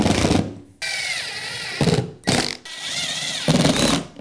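A power drill drives long screws through folded carpet, with loud whining motor bursts rising and falling in pitch, separated by short pauses, close by and without talk.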